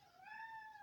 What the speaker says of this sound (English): Our cat is very vocal.